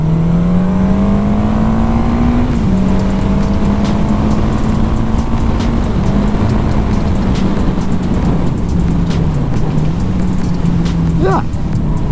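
A Suzuki GS 750 motorcycle accelerating uphill in second gear, its engine droning steadily with a rising and falling pitch close by, wind rush throughout and a rider talking over it.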